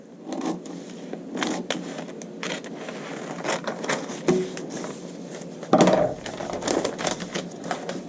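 Scissors snipping through paper along the shoulder line of a Peter Pan collar bodice pattern, a string of short, crisp crunching cuts close by with brief pauses between them, and no one speaking.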